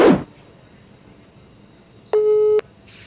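A single short, steady telephone tone sounds over a quiet line while a call is being placed, following a brief burst of noise.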